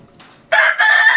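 A fighting rooster crows loudly and close by, one sustained crow after a brief quiet lead-in with faint background noise.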